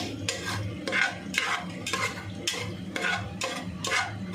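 Mint being stirred in hot oil in a pot for veg biryani, a spoon scraping in repeated rhythmic strokes, close and fairly loud, with a faint sizzle underneath.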